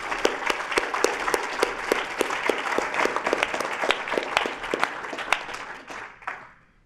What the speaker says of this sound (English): a round of applause for everyone here one more time